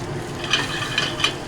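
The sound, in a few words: prawns frying with shallots and garlic in a pan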